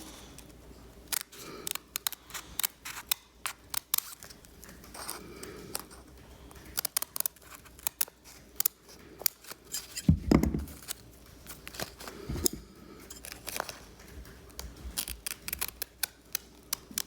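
Sewing scissors snip close by during sewing work, producing sharp, crisp clicks scattered irregularly over a quiet background.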